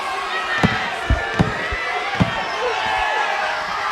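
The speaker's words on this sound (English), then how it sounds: "the crowd on their feet screaming" Boxing crowd on its feet in the closing seconds of a bout between Santiago Garces and Louie Muldowney, a sustained roar of screaming fans punctuated by several sharp thuds.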